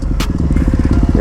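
Supermoto motorcycle engine, a 250-class bike, held at steady revs during a circle wheelie with the clutch feathered, a loud, close, pulsing drone with rapid rhythmic firing and a brief burst of noise near the start.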